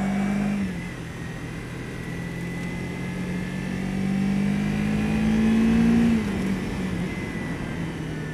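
Car driving to warm up the tires, a steady loud engine drone with a low hum that rises and falls gently, running on without a break.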